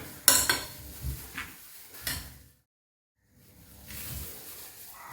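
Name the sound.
mixing chopped onion and ingredients in a bowl for uttapam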